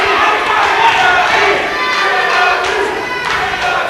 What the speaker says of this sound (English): The crowd's behind Jackal in this one.